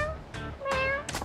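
A voice imitates a cat, giving three drawn-out, wavering meows in quick succession, loud and close with nothing else around them.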